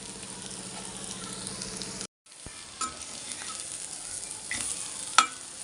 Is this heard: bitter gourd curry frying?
yes